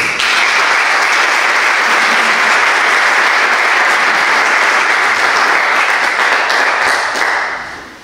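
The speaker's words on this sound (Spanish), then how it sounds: "Un aplauso para ella." An audience at a public talk on prostate cancer applauds the doctor who spoke, a loud, dense, steady wash of many hands clapping close by, holding even for several seconds before tapering off at the end.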